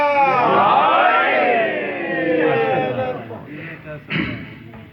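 Religious gathering where a crowd chants the slogan Nara-e-Haidar, many voices rising together in a loud drawn-out shout that swells, eases and tails off.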